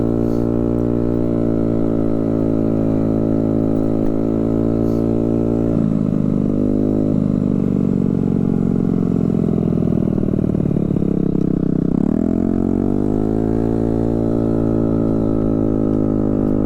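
A small Honda Ruckus scooter engine idles loudly and continuously close by, its steady putter dipping and rising briefly a couple of times as the throttle shifts.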